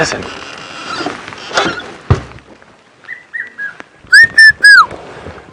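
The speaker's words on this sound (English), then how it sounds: "there's a red-chested cuckoo calling" People talk, then a red-chested cuckoo calls nearby: a clear, loud three-note whistle falling in pitch, preceded by softer whistled notes.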